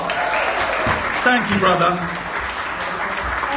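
Concert audience at a live show in Belfast clapping and cheering, a steady wash of applause with a brief spoken thanks heard over it.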